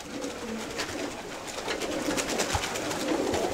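Chavades pigeons coo softly in a loft, a low continuous murmur of overlapping calls under steady background noise with faint rustling.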